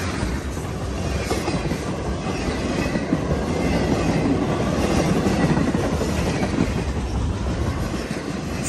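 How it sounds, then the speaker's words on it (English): A long freight train carrying military equipment rolls steadily past at close range, a continuous rumble of railcars with wheel clatter and faint squeals, no voices. "near the end of the train, military equipment started to roll through here"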